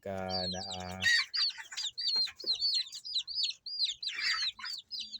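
One-month-old Silky crossbreed chicks give a rapid run of high, thin peeps, close by and fairly loud, after a brief low buzzing hum at the start.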